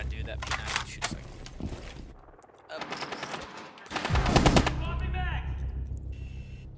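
P90 submachine gun fire in a video game comes in rapid bursts, loud and close, separated by short pauses, while players talk excitedly over the shooting.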